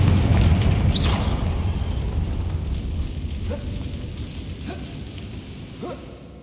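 A Confringo fire spell bursts against a worn-down bridge in Hogwarts Legacy, a loud booming blast with a rumbling low tail that slowly fades, with a few faint crackles and thin whooshes trailing after it.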